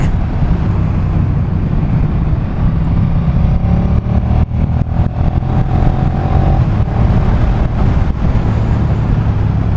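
V-twin motorcycle engine on a road ride toward Köterberg, a loud close steady rumbling drone with wind noise and a slight rise in revs partway through.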